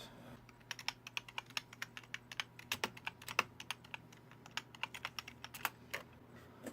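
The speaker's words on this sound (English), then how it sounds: "I'm gonna type it in here in a second." Fingers tap on a computer keyboard in a steady run of quick, crisp clicks with a few louder keystrokes, close but quiet over a faint low hum.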